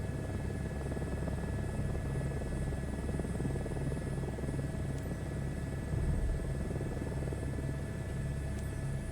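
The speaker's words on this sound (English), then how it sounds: "I hate taxiing helicopters." Steady, close turbine whine and rotor drone of an Airbus H125 helicopter taxiing in Microsoft Flight Simulator 2024, an even, continuous hum with no talk over it.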